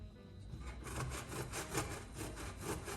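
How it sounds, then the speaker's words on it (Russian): Chicken fillet rubbed against a coarse grater in quick, steady rasping strokes, a continuous scraping rhythm close by with no talking. "Его натираем на крупной терке."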